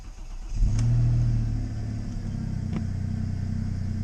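An Audi A4 engine turns over and catches around the half-second mark, then settles into a steady low idle rumble that continues to the end.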